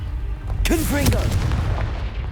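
A Confringo fire spell blast in the Hogwarts Legacy video game: a sudden booming burst with a crackling tail, set against a steady low rumble of game ambience, while a voice calls out briefly over it.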